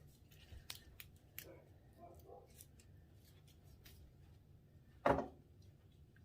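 A Monstera Dubia (Rhaphidophora hayi) cutting is snipped into sections with scissors, giving a few soft clicks early on and then one sharp, louder cut near the end, all close and otherwise quiet.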